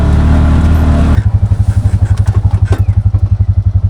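A motorcycle engine chugs close by in a steady, pulsing rhythm over a rough, roadless track, with clattering and thumps as it rides along; a louder burst opens the clip.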